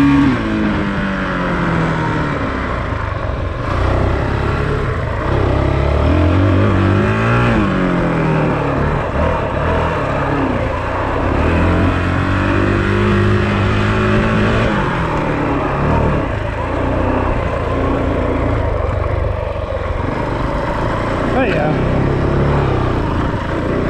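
Motorbike being ridden off-road at Village Creek, its engine revving up and down repeatedly with loud rising and falling pitch over steady wind and engine noise.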